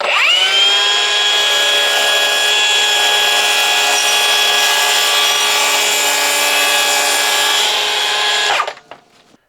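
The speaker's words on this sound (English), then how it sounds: "I did cut through some hickory, which we'll go ahead and show you that" Milwaukee track saw ripping through hard hickory: a loud, steady high whine holds for about eight and a half seconds, then cuts off and spins down to quiet.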